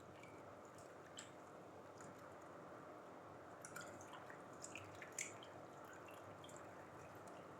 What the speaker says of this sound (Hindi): अब हम पुदीने के पत्तों को इसमें डाल देंगे और अच्छी तरह से मसल कर धो लेंगे